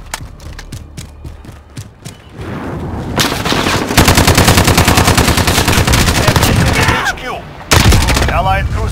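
Rapid bursts of automatic gunfire and explosions from a Modern Warfare 2019 multiplayer match, loud and dense, with short pauses between volleys and announcer-style game voices in the background.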